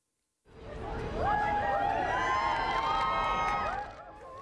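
A crowd of fans screams and cheers for Leonardo DiCaprio's arrival at a restaurant in Edinburgh, a loud sustained wall of high-pitched shrieks rising quickly and holding steady before easing off.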